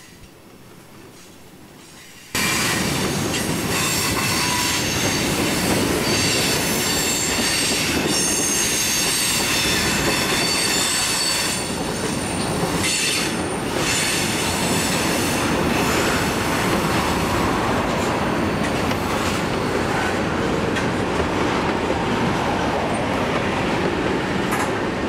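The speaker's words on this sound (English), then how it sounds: "This is train 37T proper with a grimy but gorgeous 911 on the point." Norfolk Southern freight train 37T rolls past with AC44C6M locomotives in the lead, a loud, steady roar of wheels and railcars with some squealing, starting abruptly after a short quiet lead-in and holding strong to the end.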